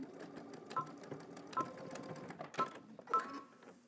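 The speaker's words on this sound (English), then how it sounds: "now I'm going to head to the machine and just going to stitch diagonally across this corner right here" Sewing machine stitching diagonally across a fabric corner for a Simplicity S9758 garment, quiet rapid mechanical whirring with four or five short distinct bursts and faint clicks between them.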